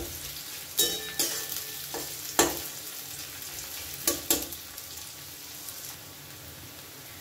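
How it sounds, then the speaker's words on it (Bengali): Onions stir-fried over a high gas flame for eggplant bharta, a continuous close sizzle punctuated by several sharp scrapes and clacks of a spatula against the pan, no voices. "পেঁয়াজটাকে ভালো করে নেড়ে নেব। এই সময় কিন্তু গ্যাসের ফ্লেমটা আমি হাইতে রাখবো।"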